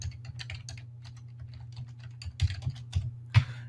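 Fingers type a search title on a computer keyboard, a quick close run of light key clicks that grows into a few louder, heavier taps near the end, with no speech.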